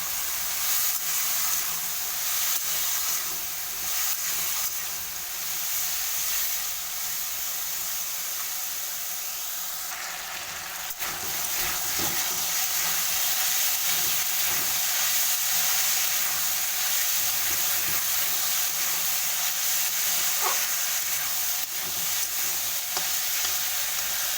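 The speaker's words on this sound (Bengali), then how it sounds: "ভালো করে ভাজা" Diced potatoes with turmeric fry steadily in hot oil for a vegetarian singara filling, a continuous even sizzle with occasional stirring scrapes, close and fairly loud throughout.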